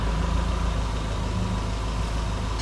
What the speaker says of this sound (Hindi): आवाज़ नहीं है, हल्की हल्की हल्की पंखे की ये आवाज़ है।